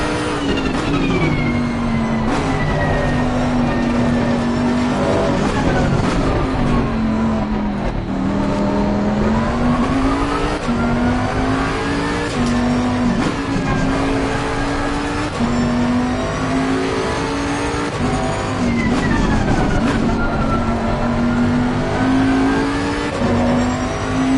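A Ferrari race car engine in a racing video game, droning continuously at high revs, its pitch rising and falling through gear changes and acceleration, loud and steady throughout with no talking.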